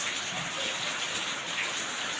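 Heavy evening rain falls steadily in a village, a loud, dense, continuous hiss with no pauses.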